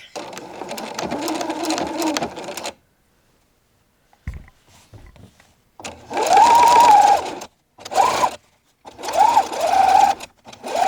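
Sewing machine top-stitching a seam on a linen tank top, running in several bursts of loud steady whirring separated by pauses, with a short faint clatter in between.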